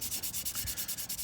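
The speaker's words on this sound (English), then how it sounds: "Abrasive carving is much better for this" Soapstone being carved by hand with an abrasive, a rhythmic back-and-forth rasping of about a dozen quick strokes, close and steady with no talking.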